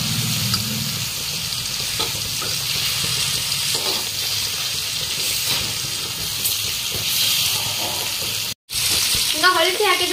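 Fish pieces fry in oil inside a covered pan over a medium-high flame, giving a steady soft sizzle and hiss that carries on, with a brief gap near the end.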